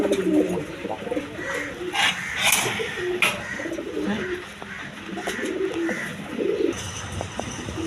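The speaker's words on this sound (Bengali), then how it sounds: "আপনার দেশি রাজগোল্লা কবুতর আছে" Deshi Rajgolla pigeons coo repeatedly in low throaty rolls, close by, while someone talks over them and other birds chirp in the background.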